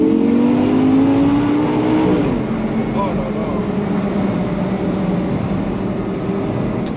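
Audi R8 V10 Spyder with R-Tronic gearbox accelerating hard, a loud rising engine note that climbs steadily before shifting and settling into a sustained roar with continuous road and wind noise.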